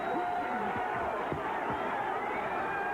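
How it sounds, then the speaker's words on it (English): Fans at a boxing match in Atlantic City cheer as a round ends, a continuous crowd roar from a distance with scattered shouts and whistles rising over it, and a commentator's voice faint beneath. "Crowd loving it as round 13 comes to an end in Atlantic City"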